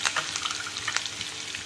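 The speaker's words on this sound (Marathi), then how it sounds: "कढईत ठेवलेले 2 चमचा तेल टाकलेले, आणि त्यात सर्वात अगोदर हिरवी मिरची टाकून घेऊया" Green chilies fry in hot oil in a wok for samosa filling, giving a steady, soft crackling sizzle with scattered sharper pops, close and alone.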